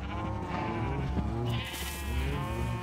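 Sheep in the Minecraft 1.16.5 game bleat in a steady run of overlapping calls, loud and close, with no talking.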